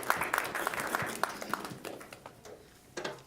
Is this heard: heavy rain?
no